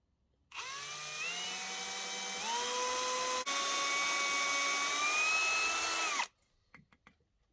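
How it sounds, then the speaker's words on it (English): A power drill with a 2mm bit drilling a hole in copper whines steadily for about six seconds, pitch shifting slightly as it bites, then stops abruptly into near silence. "I used 2mm drill bit to make the hole."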